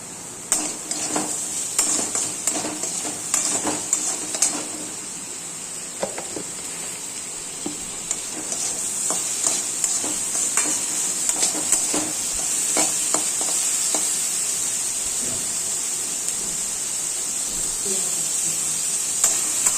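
Sliced potatoes frying in a pan with salt while a spatula stirs them, a steady close sizzle with irregular scraping and clinking strokes, busier early and settling into continuous frying later.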